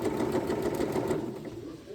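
A sewing machine stitches a garment sleeve, its needle chattering in a fast, even, continuous run, close and fairly loud, with no voices.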